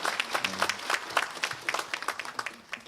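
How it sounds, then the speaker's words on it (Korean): A short burst of welcoming applause from a church congregation, steady clapping that thins out toward the end. "다시 한번 환영의 박수하겠습니다"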